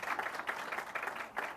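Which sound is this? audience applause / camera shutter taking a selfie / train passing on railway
audience applause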